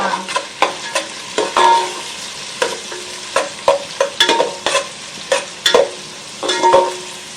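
Chopped onions frying in a pan for a Konkan jackfruit vegetable dish, a spatula scraping and knocking in repeated close, crisp strokes over a light, steady sizzle, with no voices.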